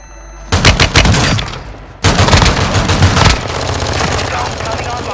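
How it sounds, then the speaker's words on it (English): A stun grenade goes off in a shooter video game with heavy surrounding gunfire: sharp loud bangs at the start and again midway, followed by sustained rattling shots and booms filling the whole stretch. "Stun grenade!"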